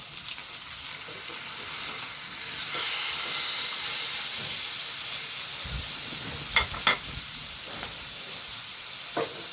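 Fish frying in hot oil after being flipped, a steady hissing sizzle that swells and eases, with a few brief scrapes and taps near the end.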